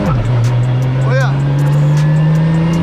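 A Nissan 350Z with a Banks exhaust drones loudly and steadily up close, with a brief crackle and pop rising partway through.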